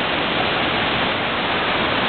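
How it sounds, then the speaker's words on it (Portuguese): Cachoeira das Araras waterfall in Presidente Figueiredo, Amazonas, roars in a steady, dense rush of falling water that stays loud and unbroken throughout, with no voices. "Fenomenal a cachoeira"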